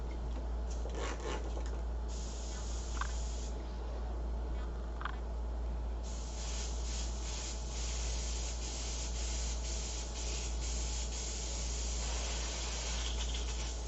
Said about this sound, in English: I have an airbrush I was using earlier, so I have to clean this bad boy out.